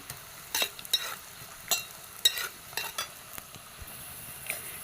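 Chopped ginger sizzles gently in a pan while a spoon stirs it in sharp, irregular scrapes and taps, close up and fairly quiet, with no talking.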